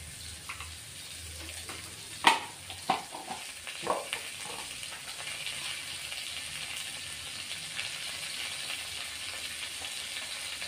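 Green chili paste fries in a pan for a Bengali rui fish curry, a constant hiss punctuated by a cluster of sharp spoon clinks and stirring knocks early on, then settling into steady sizzling without talk.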